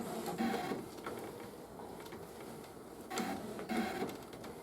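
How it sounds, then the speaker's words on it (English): A Brother ScanNCut machine cuts vinyl with steady mechanical whirring and repeated buzzing motor passes as the blade head moves, close and alone. "I'll zoom you guys out so you can see the machine cutting"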